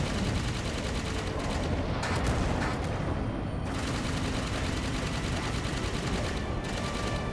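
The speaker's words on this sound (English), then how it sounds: "I'm going to take the fuel rod cannon now." Fuel rod cannon fire in Halo 5, heard as dense, loud bursts of gunfire and blasts overlapping in a continuous battle roar, with sharp cracks breaking through.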